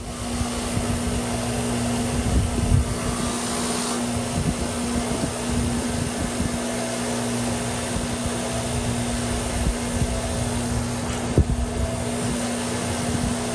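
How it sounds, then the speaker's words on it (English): Old screws from a WEN Model 920 Zipp Saw are cleaned on a powered wire brush, which gives a steady whirring hum with rough scratchy bursts of contact at close range and no talk. "I'm going to take the opportunity to wire brush those guys."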